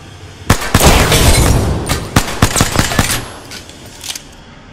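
A frag grenade goes off in Apex Legends, a loud sharp blast followed by a rapid scatter of cracking pops and bursts that die away over a few seconds, with no voices.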